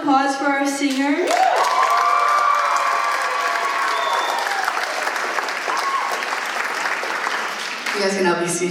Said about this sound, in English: Now let's have another round of applause for our singer.